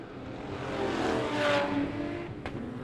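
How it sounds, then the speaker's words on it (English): Superstock race cars from the Superstock Stampede at Nelson run down the back straight, engines rising into a loud roar at mid-clip and then fading, with a brief sharp burst near the end. "There's the 6P car of Davey Evans and the other 6P car of Charlie Harper just making their way down the back straight into 3 and 4"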